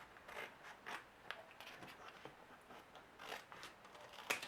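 Scissors slowly cut through paper backed with an adhesive sheet, close and faint, a few soft snips and scraping slides with no talking.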